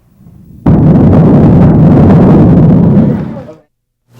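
A loud, sustained burst of gunfire in a documentary reenactment of a neighborhood shooting, starting abruptly and rumbling for about three seconds before cutting off.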